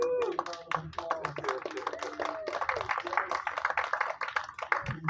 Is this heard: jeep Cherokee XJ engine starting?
no